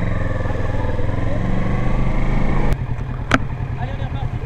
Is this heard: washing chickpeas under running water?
no